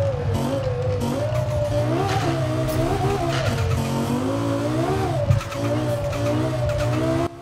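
Lexus LFA V10 tuned to 1,300 hp in Forza Horizon 4, a loud sustained engine and exhaust note rising and falling through revs with shifts, heard alone and up close.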